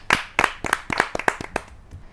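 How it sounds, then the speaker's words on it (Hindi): Scattered hand claps greet poet Rasik Gupta at a Hindi poetry gathering, about six distinct, fairly loud claps in a slow, uneven rhythm rather than a dense ovation. "आपकी जोरदार तालियां मिले बड़े कवि को"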